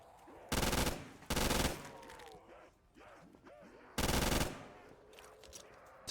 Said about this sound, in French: Elle est vraiment bien la MG42, elle est balèze hein.